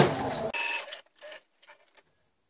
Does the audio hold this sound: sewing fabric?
yes